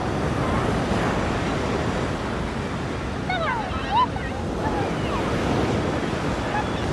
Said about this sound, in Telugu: చాలామంది బీచ్ అంటే అలలేమనుకుంటారు, కానీ అక్కడ కావాల్సింది అలలు కాదు, అలల తర్వాత అయిపోయి వస్తున్న ఒక శబ్దం అనమాట